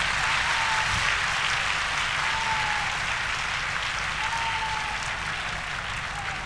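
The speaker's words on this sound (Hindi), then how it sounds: "एक बार जोरदार तालियां पूरा सदन बजाए।" Members of the Delhi assembly applauding loudly after a speech by the new chief minister, a thick, sustained roar of clapping that fills the room at a steady level throughout.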